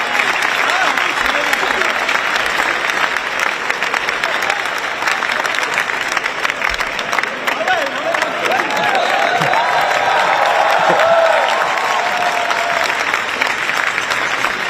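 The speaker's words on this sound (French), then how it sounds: "B-Boy Thomas, on l'applaudit bien fort" Loud, sustained applause from an event audience at a Paris 2024 Olympics countdown ceremony, a dense steady wash of clapping filling the whole stretch, with some crowd voices mixed in.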